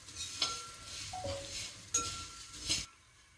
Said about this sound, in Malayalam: അവൽ വറുക്കുകയാണ് കേട്ടോ